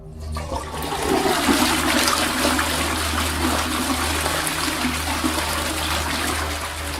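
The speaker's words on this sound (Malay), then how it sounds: "dia terdengar bunyi pam tandas dan bunyi orang membuka bilik air" A toilet flushes nearby in a bathroom, a loud rushing gush of water with a low gurgling rumble that settles into a steady draining trickle.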